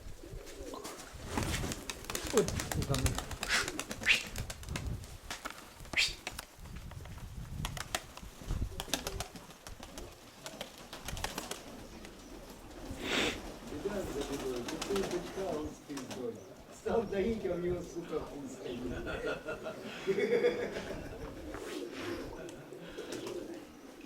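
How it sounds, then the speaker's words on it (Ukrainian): Pigeons coo repeatedly at close range, with soft throaty calls and occasional wing flutters, while people talk intermittently in the background. "Ось такі голуби."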